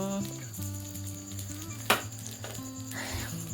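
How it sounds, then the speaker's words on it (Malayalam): A dosa fries in oil on a hot pan, giving a soft sizzle with one sharp clink, beneath a steady tonal hum and background music. "അപ്പം നമ്മൾ ഇത്തിരി കുറച്ച് എണ്ണ ഇങ്ങനെ തെളിച്ചു കൊടുക്കാം."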